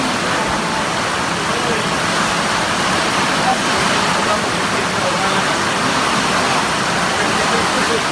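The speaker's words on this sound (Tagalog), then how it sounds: "sobrang lakas ng ulan" Steady, dense roar of heavy rain pouring down on San Antonio Island, Northern Samar, loud and unbroken throughout with no other sounds standing out.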